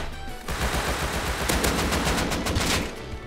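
Rapid automatic AK rifle fire in the survival game Rust, a dense burst of loud, closely spaced shots running almost continuously, with no talking.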